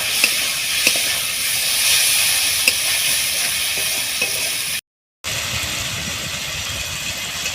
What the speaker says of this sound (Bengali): ভালোভাবে কষিয়ে নিয়েছি বন্ধুরা।